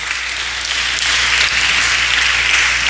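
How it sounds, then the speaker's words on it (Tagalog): Steady, dense applause from a congregation at a midweek church service, a continuous wash of clapping that swells slightly and holds without a break. "Palakpak. Sige pa."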